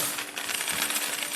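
Gold coins drop and jingle, a quick flurry of bright metallic clinks and chimes piling onto one another, moderately loud and close, with no speech.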